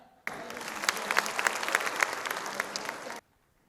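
A crowd applauds at a student felicitation ceremony held by a rickshaw association, a burst of dense, steady clapping lasting about three seconds that starts and stops abruptly.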